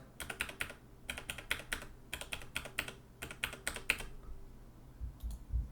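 Quick bursts of computer keyboard typing as a test credit card number is entered, four clusters of rapid clicks separated by short pauses, close and fairly quiet.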